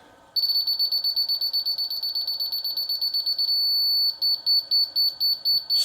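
Laser level receiver giving its slow below-grade signal: a loud, close, high-pitched electronic tone repeating in a steady pulsing rhythm, briefly merging into a continuous note before the slower beeps resume, with no talking.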